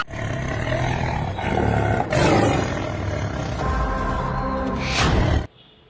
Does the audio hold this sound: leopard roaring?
yes